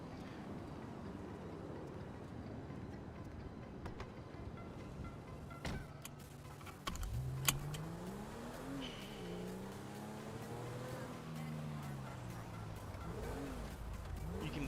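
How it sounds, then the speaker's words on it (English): A car engine in a roleplay video game gives off a faint, steady whine, which rises into a clearer wavering tone partway through, with a sharp click or two and no talk. "If you listen in my background, you can just hear like a whine, and what it is the engine"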